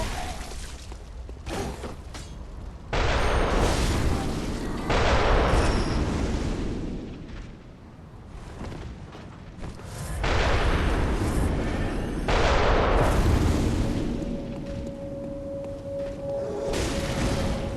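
Booming cannon fire from an enemy in Bloodborne, several heavy blasts spaced a few seconds apart, loud and broad over a busy game soundscape.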